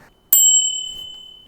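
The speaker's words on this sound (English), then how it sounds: "And there's a bell too, which is surprising." One sharp ring of a small bicycle bell on a new bike, loud and close, its bright metallic tone hanging and slowly fading over about a second.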